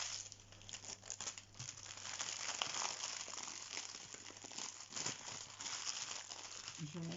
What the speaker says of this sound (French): cette boîte de rangement pliante, excusez-moi pour le bruit